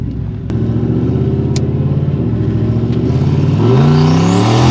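A 600-horsepower turbocharged Lincoln on nitrous roars steadily on a closed course as its tires spin, the engine note climbing into a louder, rising rev toward the end, with no talk.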